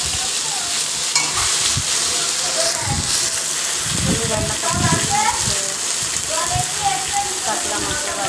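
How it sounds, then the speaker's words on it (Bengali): Pointed gourd fries in hot oil in a pan, giving a steady, close sizzle with scattered crackles and occasional scraping of a stirring utensil throughout. "পটলগুলো একটু ভালো করে ভেজে নিতে হবে"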